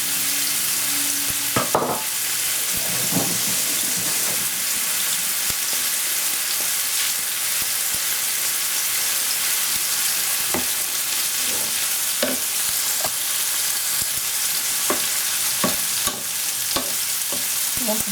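Prawns sizzling in a hot pan, a steady bright frying hiss with scattered stirring clicks and scrapes of the utensil, close and continuous with no talking.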